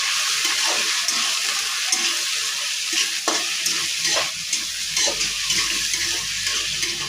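Turmeric and salt are stirred into bottle gourd in a pan, giving a steady sizzling fry with soft, irregular scraping strokes throughout, close and fairly loud, with no talking.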